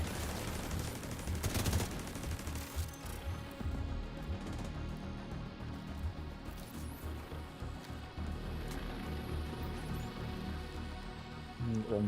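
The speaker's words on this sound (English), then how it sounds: "I hear gunfire." Gunfire in the video game The Division 2: Warlords of New York, with rapid automatic bursts and scattered shots sounding over a steady game soundscape for the whole stretch.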